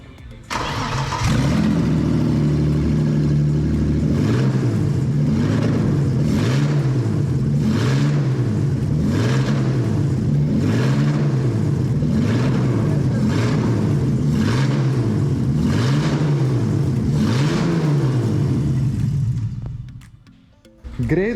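Race car engine in a workshop, running hard with a strong steady roar that rises and falls in repeated rev sweeps, then cuts out near the end.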